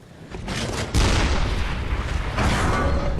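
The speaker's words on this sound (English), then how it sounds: "or the resounding crash of the cannon, each is absolutely menacing" A cannon in the video game Bloodborne fires with a loud, booming blast that rumbles on, followed by a second heavy report about a second later.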